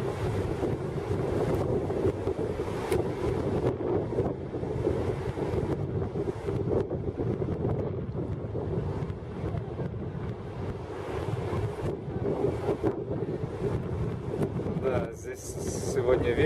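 Wind buffets the microphone with steady gusty roar while ocean surf washes in the background at a beach in Santa Cruz; occasional faint voices blend into the noise.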